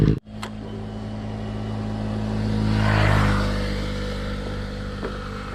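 A Benelli 600i motorcycle engine runs steadily with a low, even throb, swelling briefly as if revved around the middle before settling back to idle, close and loud with no talking.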